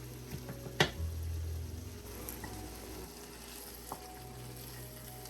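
Palm oil and onions tipped into a pot of cassava-leaf and bean greens, with a sharp clatter and splash near the start, then a steady low sizzle and occasional soft stirring knocks.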